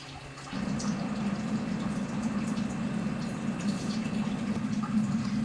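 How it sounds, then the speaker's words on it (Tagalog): Water pours steadily into an electric kettle under repair, a continuous close splashing fill that begins abruptly about half a second in and holds level until the end, with no talking. "Lagyan naman natin ng tubig para ma-testing natin kung kukulo ang tubig na ilalagay natin dito."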